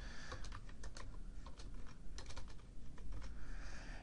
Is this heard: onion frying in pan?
no